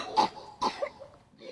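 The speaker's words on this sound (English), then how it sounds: "we won't play the Ferris Bueller coughing drop because it's like 8 seconds" A Ferris Bueller coughing sound drop gives two short, dry coughs about half a second apart, followed by faint murmuring.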